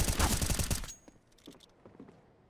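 Rapid AK-47 gunfire from a CS:GO match, a dense loud burst of automatic shots in the first second, followed by fainter scattered in-game sounds.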